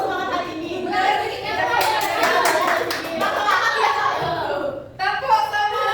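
A classroom of children claps a rhythmic 'tepuk semangat' cheer during a micro-teaching lesson, the quick claps steady and close, mixed with kids' voices chanting and chattering throughout.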